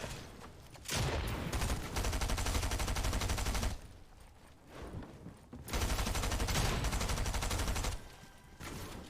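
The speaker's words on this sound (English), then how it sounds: "I'm getting sniped." Gunfire in the video game Fortnite crackles in two long, rapid bursts separated by a short lull, loud and close with no speech.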